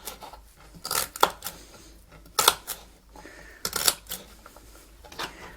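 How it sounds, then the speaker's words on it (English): A kitchen knife slices through celery on a cutting board in a home kitchen, giving a series of sharp, crisp chops in irregular bursts, close and fairly loud, with quieter gaps between strokes and no talking. "So I'm going to cut some of the celery."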